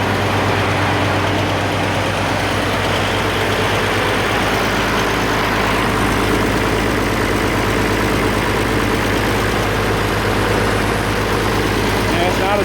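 An Oliver 1550 diesel tractor engine with a cheap aftermarket muffler idles steadily and loudly at close range, a constant low rumble running without a break.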